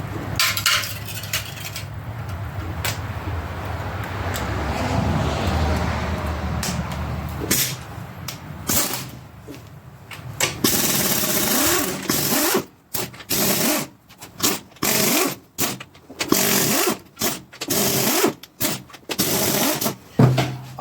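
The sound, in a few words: wrench removing bolts from small block Chevy 350 engine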